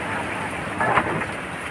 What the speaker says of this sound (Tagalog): Todong ulan. Tawa ng bagyo.